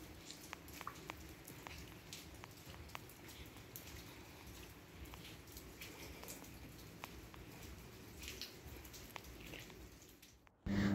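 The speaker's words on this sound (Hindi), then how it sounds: "दूसरे दिन की सुबह के साथ बारिश जो है अभी भी हो रही है लेकिन कल के निस्बत बहुत कम हो चुकी है, बहुत हल्की हो चुकी है।" Light morning rain falls at the Alpine Hotel in Nathia Gali, Pakistan: soft steady patter with scattered distinct drips, fairly quiet and even, ending in a sudden loud knock.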